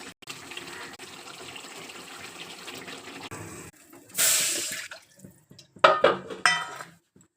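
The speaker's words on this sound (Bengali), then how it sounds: "তো দিয়ে দিচ্ছি আমি জল।" Water poured into a cooking pan for a catla fish and coriander dish: a steady stream runs for several seconds, then a brief louder gush, followed by a few sharp clanks and splashes nearby.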